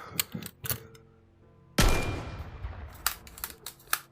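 A shotgun fired in a VR game on a Meta Quest 2 with a gunstock: one sharp, loud blast with a decaying tail, set among several lighter mechanical clicks and taps before and after it.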